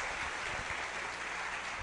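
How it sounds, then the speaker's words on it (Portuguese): A lecture audience breaks into applause for a speaker, a brief, even wash of many hands clapping with a faint low hum beneath. "Uma salva de palmas para eles."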